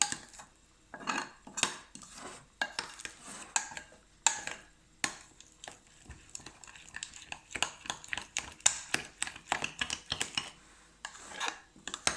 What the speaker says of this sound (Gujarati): હવે આપણે એને હલાવીએ છીએ. સરસ રીતે હલાવી લઈએ.